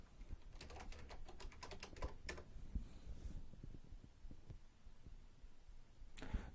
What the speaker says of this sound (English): I will type one more time.